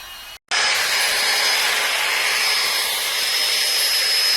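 Old potting soil with leftover tomato roots is ground down by a machine: a sharp click and short gap, then a loud, continuous, steady grinding whir that holds without a break to the end.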